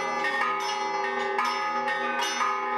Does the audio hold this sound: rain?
no